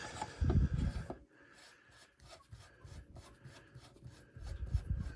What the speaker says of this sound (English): So I've got my barrel nut, and you just want to slide that on and hand tighten.